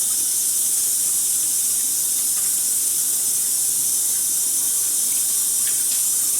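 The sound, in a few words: washing hands under running tap water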